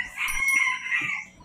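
A white kelso rooster crows once, a close, loud, strained call that rises then trails off over about a second.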